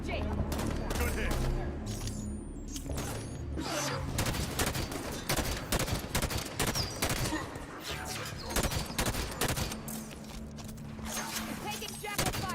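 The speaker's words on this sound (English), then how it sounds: "Taking jackal fire." Covenant jackals fire weapons in the video game Halo 5: rapid, sharp shots crackle in a steady barrage for the whole stretch, with voices talking over the firing.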